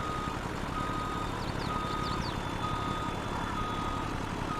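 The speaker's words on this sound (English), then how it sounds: "That's some terrible backing," Truck reversing beeps in Farming Simulator 22, a series of short repeated tones around the middle of the clip over steady engine rumble and constant broadband machinery noise.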